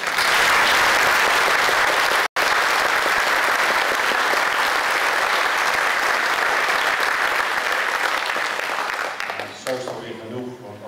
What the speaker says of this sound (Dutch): Ik zou best een applaus voor het koor willen hebben